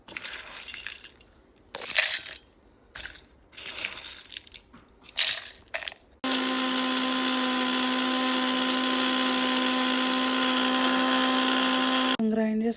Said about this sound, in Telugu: ఇప్పుడు ఈ వేయించి పెట్టుకున్నవన్నీ చల్లారేదాకా వెయిట్ చేసి మిక్సీ పెట్టేసుకుందాం.